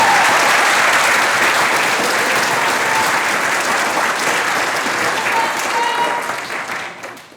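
Standing ovation at a high school graduation ceremony, a large crowd clapping loudly and continuously, dense and even, with faint cheers mixed in before it starts thinning out and fading near the end.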